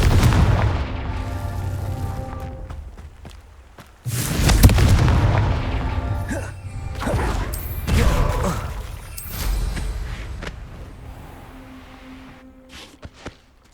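Confringo fire-blast spells in the video game Hogwarts Legacy, a string of loud booming explosions over a rumbling game soundtrack, with bursts at intervals and one especially heavy blast, then quieter sparks near the end.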